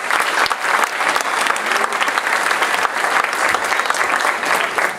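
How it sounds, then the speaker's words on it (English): An audience gives loud, sustained applause for the teen players of an all-teen musical theatre production, with continuous dense clapping from start to finish. "So let's give them a round of applause."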